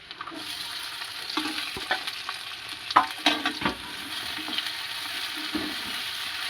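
Garlic paste and chopped onion frying in oil for a bhetki fish-head muri ghonto, a constant crackling sizzle with bursts of scraping stirs in the middle, close and moderately loud.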